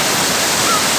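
The Si Karim waterfall in Wonosobo roars as a dense, loud, unbroken rush of falling water heard up close with no other sounds.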